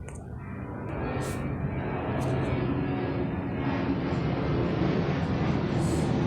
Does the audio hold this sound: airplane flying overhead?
yes